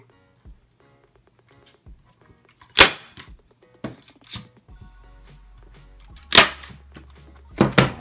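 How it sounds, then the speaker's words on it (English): A staple gun fires staples through fabric into a wooden canvas frame, several sharp, loud snaps spaced unevenly over a few seconds with light handling noise between them. "You're gonna take your staple gun"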